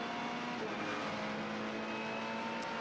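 Onboard a GT race car at Motegi, the engine drones steadily and loudly at near-constant pitch, a continuous close mechanical whine with no voices.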